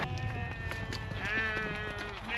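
Sheep bleat on a farm in long, wavering cries, several animals overlapping close by with barely any talk over a steady background.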